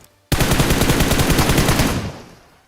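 Rapid automatic gunfire in a battle royale video game, a loud sustained burst of close shots lasting about a second and a half before trailing off, with no talk over it.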